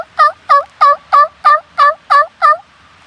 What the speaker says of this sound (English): Those are two big toms right there.